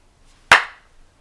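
A single sharp clap, loud and close, standing alone in a quiet room before fading quickly.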